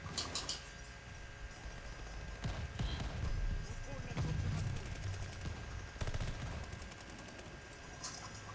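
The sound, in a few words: gunfire from Call of Duty Vanguard video game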